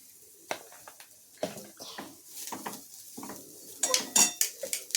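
A spoon clatters and scrapes against a metal pan as masala and coriander are mixed in, giving irregular bursts of clinks and knocks with quiet gaps, ending in a cluster of brighter metallic taps.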